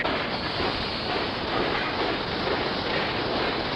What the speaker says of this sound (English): The Royal Train is running away.